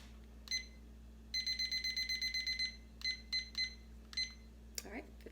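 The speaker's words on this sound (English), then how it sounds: "let me get my timer set" Digital kitchen timer beeping while being set for baking biscuits, with a quick burst of rapid high beeps followed by several short separate beep pairs, loud and close over a steady low kitchen hum.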